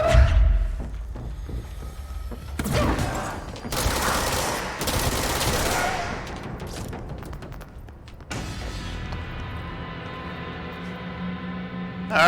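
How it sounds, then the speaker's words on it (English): Rockets and explosions from a combat fight in the video game Control: loud, dense bursts of blasts and rapid gunfire layered over game music, with a heavy explosive stretch in the middle and a tonal ringing tail near the end. "Those fucking rockets,"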